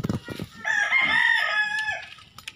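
A rooster crows loudly and close, one long drawn-out call with a few clucks and rustling before it.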